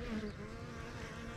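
Honey bees hum inside an open hive during an inspection, a faint, steady buzzing drone heard close for a brief moment.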